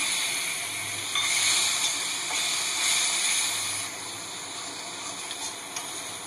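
Water poured into a pan of hot fried curry masala for a gravy without onion or garlic, producing a broad steady hiss that swells and then eases off; close and moderately loud, with no speech.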